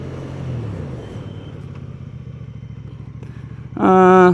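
A QJMotor SRK550s motorcycle engine runs in second gear at a steady low pulsing rumble, then revs up sharply into a loud rising whine near the end.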